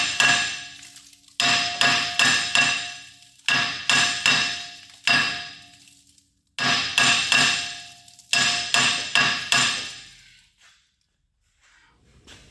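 Metal hammer blows strike a rusty, stuck brake rotor in rapid bursts of three to five ringing hits separated by short pauses, loud and close with no talking.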